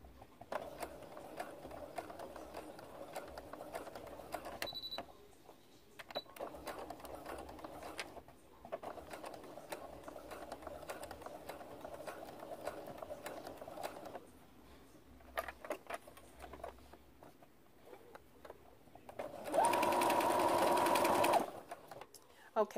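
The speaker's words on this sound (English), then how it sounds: "I will show the one side sewing the shoulder seams together at 3/8 of an inch" A sewing machine stitching the shoulder seams of a t-shirt at 3/8 inch: soft handling and mechanical sounds first, then a loud, steady motor whir running close by for about two seconds near the end.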